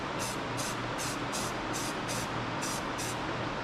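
Short bursts of aerosol spray paint hiss out in an even rhythm, about eight close, loud puffs over a steady low background hum, as diver duck decoys are painted.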